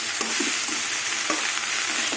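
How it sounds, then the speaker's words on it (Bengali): Flat beans, potato and spring onion leaves are stir-fried in a pan, giving a steady sizzle broken by a few sharp scraping strokes of the spatula, close and fairly loud. "এবার পেঁয়াজ পাতা দিয়ে কিছুক্ষণ আবার চাড়া করে নেব"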